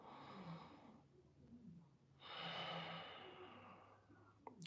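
A slow exhale out through the nose during a guided breathing exercise, soft and airy, heard as two long, gentle breaths in a quiet room.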